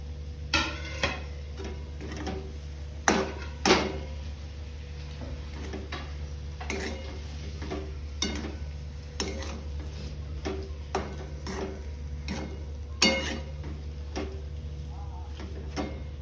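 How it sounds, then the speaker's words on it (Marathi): A spoon stirring vada pav potato filling mixed with coriander in a pan, giving light, irregular clinks and taps against the metal over a steady low hum. "आता त्याच्यामध्ये थोडी कोथमीर टाकून घे आणि पूर्ण मिक्स करू"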